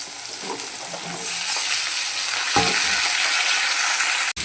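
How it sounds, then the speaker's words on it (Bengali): Vegetables sizzle in a hot pan, the frying hiss rising after about a second and holding steady, with a few stirring knocks and a sharp tap near the end, no voices. "এবার আমি দিয়ে দিচ্ছি এই সবজিগুলো।"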